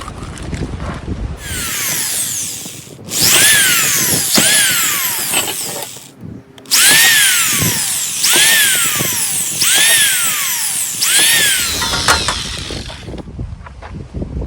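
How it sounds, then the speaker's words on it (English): A power drill bores pilot holes in metal for a hobo stove, its high whine starting and stopping in several loud bursts, each spinning up and slowing down, with short pauses between them. "Now we'll make all those pilot holes."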